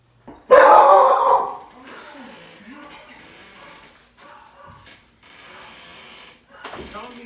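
A dog gives a loud, sharp burst of barking up close, then fainter yips and whines follow under background noise and a shuffling near a door.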